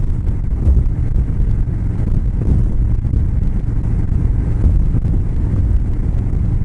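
Loud, steady wind buffeting a microphone with a constant low roar while riding a Harley-Davidson Road King motorcycle through the Arizona desert on a high-wind day; no voices.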